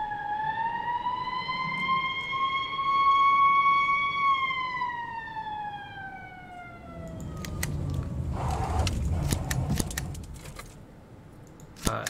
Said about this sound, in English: Why are you running your sirens to go have a day at the spa?